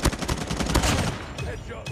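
Rapid automatic gunfire in a Call of Duty team deathmatch, dense overlapping bursts crackling loudly through the first second, then thinning into scattered shots and lingering echo.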